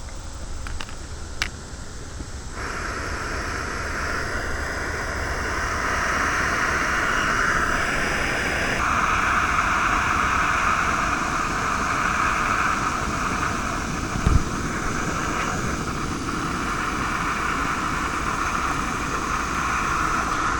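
An isobutane-propane backpacking canister stove burns steadily under a pot holding about two cups of water, a continuous close, even roaring hiss that grows slightly louder as the gas is opened.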